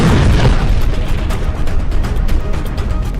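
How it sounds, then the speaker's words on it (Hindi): A bomb blast in Gaza: a loud, deep rumbling roar that fills the whole clip, heavy and sustained with no voices. "इजरायल का बम गाजा में फटता है"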